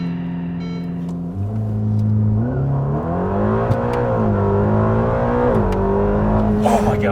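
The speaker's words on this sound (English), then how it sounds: "'21 Ferrari Roma With power start." A 2021 Ferrari Roma with a twin-turbo 3.9-liter V8 idles with a deep, close, steady rumble, then rises in pitch through a few smooth revs and settles again.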